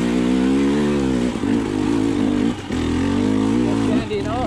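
A 2020 KTM 300 XC TPI dirt bike engine putters at low revs as the bike crawls along an off-road trail, a steady close rumble with slight throttle changes and brief dips, while a rider talks over it.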